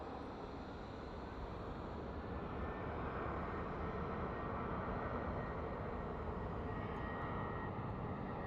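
An aircraft departs from Phoenix Sky Harbor International Airport at night, its jet engines a faint, steady broadband roar heard from a distance and slowly building.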